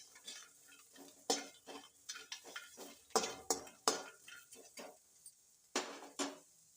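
A metal spoon stirs chopped onions in a cooking pan: irregular scraping and clinking strokes, some sharp and loud, others soft, spaced unevenly over several seconds with near silence between.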